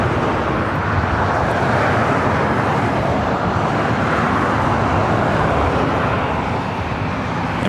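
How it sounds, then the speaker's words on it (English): A United Airlines Boeing 737 MAX 8 takes off at LAX, a loud, steady, broadband jet roar that holds constant and close throughout, with no voices. "Our next takeoff is United Airlines flight 2019 heading to SFO, 737 MAX 8"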